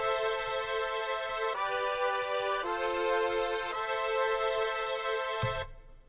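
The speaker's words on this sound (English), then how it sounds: "The first sound we have is this patch out of X-Band 2. It's strings combined with this brass" X-Band 2 synth patch layering strings with brass, a rich sustained chord that shifts through several changes over a low pulsing bed, steady and loud before cutting off near the end.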